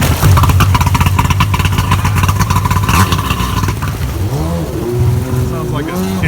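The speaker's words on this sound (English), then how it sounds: "I was going to give you a little sound clip of what it sounds like with the Kaufman." A Superjet personal watercraft engine fitted with a Kaufman exhaust roars loud and close, revving hard and then dropping back, while someone talks over the later part.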